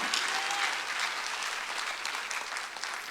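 Sustained applause from a church congregation during a Sunday worship service, a steady dense patter of many hands filling the whole stretch at even loudness, with no talk over it.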